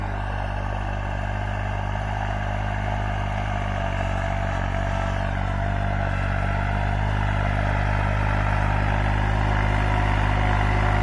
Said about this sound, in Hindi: बढ़िया चल रहा ट्रैक्टर